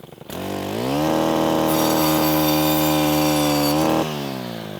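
A string trimmer fitted with a brush cutter blade for wood revs up and bites into a stump, a loud steady engine whine that holds for several seconds before easing off at the end.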